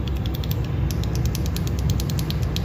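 Typing on a keyboard fitted with Akko Jelly Sponge and Fantasy Virus tactile switches: a dense, continuous run of quick clacky keystrokes close to the mic over a steady noise bed.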